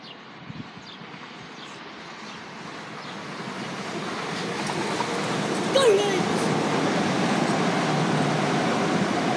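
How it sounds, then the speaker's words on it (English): A Class 375 train passes the Faversham foot bridge, a broad rushing rumble that swells steadily louder over several seconds, with people talking nearby. "there's a train."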